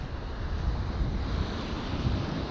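Strong wind roars steadily at an ocean shore, buffeting the microphone with a dense, continuous rumble and rush of air, loud and close, without any voices.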